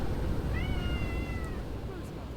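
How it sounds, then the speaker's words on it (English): A pet cat named Tachyon lets out a drawn-out, fairly loud meow, then a softer trailing one, over a low background hum. "My cat likes to scream."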